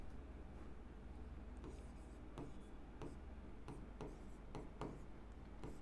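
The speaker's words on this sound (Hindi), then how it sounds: "यहाँ पर हम लोग लिखेंगे फटाफट से" Quick pen strokes on paper, a string of soft, scratchy taps and short rubs in an uneven rhythm, close and faint over a low background hum.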